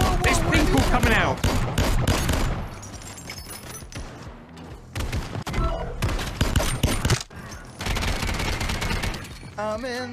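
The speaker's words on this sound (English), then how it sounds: "Oh, someone's shooting me." Rapid bursts of gunfire in the VR shooter Gambit on Quest 2 come in loud, clustered volleys separated by brief pauses, with a voice heard speaking among the shots.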